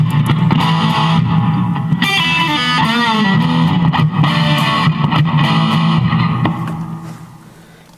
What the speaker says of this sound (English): the next one is a Fender 65 spring reverb, which I like using to play this.